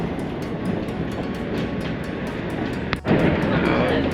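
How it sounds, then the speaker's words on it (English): A suspended monorail in hilly country near Kamakura in Japan glides along its overhead track, giving a steady, loud rumble and hiss heard from inside the car, with a faint rhythmic ticking and a brief sharp clunk partway through. "this hanging train, suspended monorail, is traversing very smoothly"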